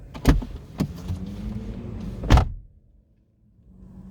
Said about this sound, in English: if you open the right door and you slam it